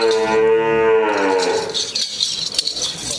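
A calf moos at a cattle market in Daska, Pakistan, with one long, loud, close call that then tails off into rough background noise and faint clatter.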